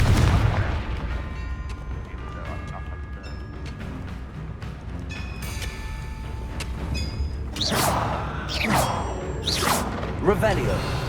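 Fiery Confringo spell blasts and whooshing magical impacts during combat in Hogwarts Legacy, several booming bursts and swishes over a busy battle soundscape, with game voices calling out spells.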